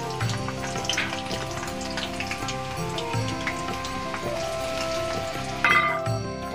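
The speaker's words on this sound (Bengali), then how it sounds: "প্রথমে আমি তেল দিয়ে দিচ্ছি, এখন আমি পেঁয়াজ কুচি দিয়ে দিচ্ছি আর একটা তেজপাতা।" Chopped onion and a bay leaf fry in hot oil for a chicken curry, giving a steady, close sizzle that runs throughout with no voices.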